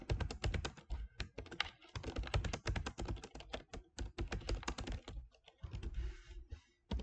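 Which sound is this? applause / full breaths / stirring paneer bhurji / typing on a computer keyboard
typing on a computer keyboard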